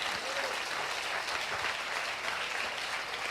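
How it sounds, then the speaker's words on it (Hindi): Applause at a pastors' conference in Karachi, Pakistan: a crowd claps continuously in a dense, even wash for about three seconds, heard from a moderate distance. "जोरदार तालियां खुदावंद के लिए बजाएं"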